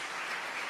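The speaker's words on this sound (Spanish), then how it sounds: "Fuerte ese aplauso al Señor." A church congregation applauding, a dense continuous wash of many hands clapping together at moderate level with no pauses.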